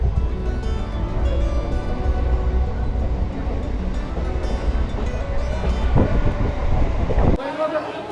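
An Asansol–Jasidih MEMU passenger train runs with a steady, loud low rumble and rattling of the carriages throughout, with brief clunks toward the end and faint chatter from a crowded coach.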